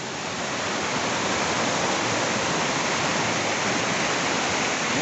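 Steady, loud rushing water of a strong river current after heavy rain at Serra Azul Velho, Palmares, Pernambuco, fills the whole stretch, a dense continuous roar without breaks or voices.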